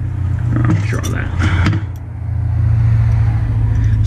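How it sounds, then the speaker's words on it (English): Cars driving past on a road near a Toyota Prado 90 Series under repair, a loud steady engine and tyre rumble with a passing swell; a person speaks briefly over the traffic. "So for the cars driving past."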